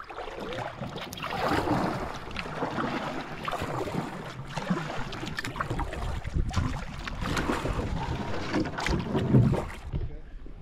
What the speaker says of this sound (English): It's a nice, peaceful little paddle down the River.